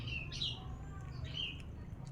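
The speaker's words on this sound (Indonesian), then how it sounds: "Burung." Outdoors, a wild bird gives two short high chirping calls about a second apart, fairly faint against a low background hum.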